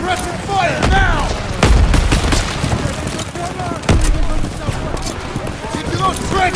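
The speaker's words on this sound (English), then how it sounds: "Focus suppressing fire now!" Gunfire from a Call of Duty: WWII battle, with loud bursts of rifle and machine-gun fire and heavy booms in dense, repeated volleys, while shouted voices call out over the noise.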